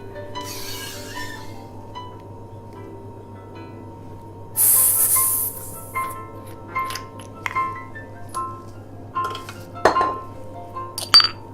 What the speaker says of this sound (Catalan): Hem de col·locar 2 càrregues, i posaré 2 càrregues de gas.